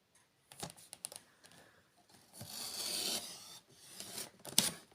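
A new paper trimmer slices through card for a pop-up card craft, making faint scraping and sliding sounds with a few clicks, then a longer gritty cutting stroke, all close and quiet with no speech.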